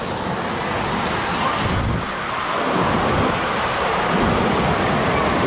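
Heavy tropical rain pours down in Naga City, Philippines, a loud, dense, unbroken roar with a low rumble that could be distant thunder or passing traffic, and no talking.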